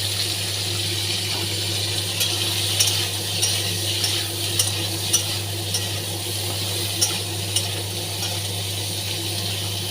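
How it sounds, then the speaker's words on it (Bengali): Cauliflower and potato fry together with turmeric in a pan, a steady hiss of sizzling oil under a constant low hum, with small scrapes and clicks as the pieces get stirred and no voices. "তোমরা ফুলকপি আলুটাকে আলাদা আলাদা ভাজতেই পারো, আমি একসাথেই ভেজে নিই।"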